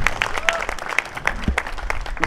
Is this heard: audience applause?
yes